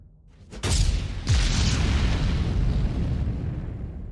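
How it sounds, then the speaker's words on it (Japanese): A chain of block explosions in the space game Starbase, with thousands of blocks set off by sympathetic detonation: a sharp boom followed by a second blast about a second later, then a long loud rumbling roar that slowly fades. "誘爆では簡単に爆発するでしょう。"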